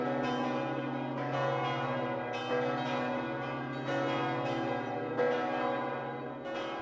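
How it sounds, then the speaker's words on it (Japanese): Church bells ring out to celebrate peace, a series of resonant overlapping strikes every second or so, each clang swelling and ringing on beneath the next. "平和を祝う鐘が鳴り渡りました。"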